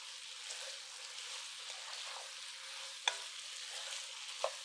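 Sauce being stirred into beef and broccoli in a pan gives a soft, continuous sizzle with light scraping, punctuated by two brief sharp taps of a utensil.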